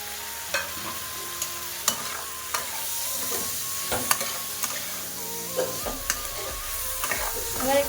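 Prawns and diced potatoes fried in spiced oil sizzle steadily while being stirred, with several sharp scraping clacks of the spoon against the pan, close and fairly loud, no talking.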